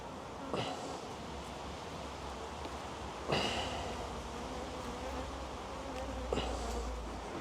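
Steady close buzzing of Buckfast honey bees at an opened hive throughout, with a few brief rustling bumps rising above the hum.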